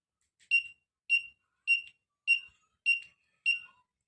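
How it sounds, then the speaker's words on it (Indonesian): Buzzer on an ultrasonic-sensor automatic plant watering device, beeping six short, evenly spaced, high-pitched tones in a steady rhythm against silence. "buzzer yang akan berbunyi seperti berikut"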